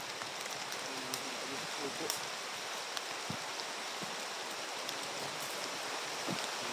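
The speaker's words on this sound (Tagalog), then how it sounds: "Ang lakas ng ulan." Heavy rain falls as a steady, fairly faint broadband hiss with occasional soft drips and thuds nearby, no voices over it.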